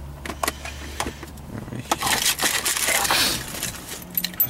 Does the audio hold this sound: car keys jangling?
yes